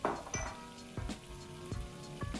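Diced yellow onion browns in ghee with a soft, quiet sizzle, broken by several sharp clinks of a utensil against the pan.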